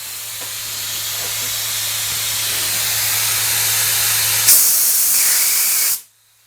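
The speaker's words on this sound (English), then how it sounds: "So you can see here we sprayed just a vertical pattern" Lube Shuttle Lube-Jet ECO lubricant sprayer hissing out a vertical spray pattern, a steady loud rush of air and mist that builds gently, then brightens and cuts off abruptly at the end.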